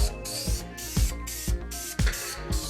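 Glitter being sprayed onto a handmade snowman creature, repeated hissing bursts about every half second, each ending in a soft knock, loud and close.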